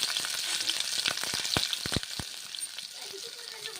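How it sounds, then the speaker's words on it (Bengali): Tomato, onion and green chili frying in hot oil in a pan while cooking butter dal, a close crackling sizzle with sharp spatters and pops, louder early and easing off toward the end. "টমেটো ছেড়ে দিলাম, ভেজে নিচ্ছি।"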